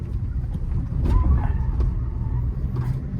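A car makes a fast U-turn, a steady loud engine hum and road rumble swelling slightly as it swings around, with faint tyre noise and no speech.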